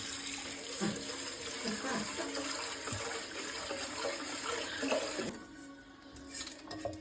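Rice being washed by hand in water before cooking, a steady close swishing and sloshing with soft splashes and clinks against the pot, constant throughout.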